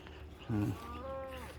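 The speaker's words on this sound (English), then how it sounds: "So you hear the cows in the distance." A couple of faint, low moos from cattle somewhere far off, rising briefly over quiet outdoor background noise.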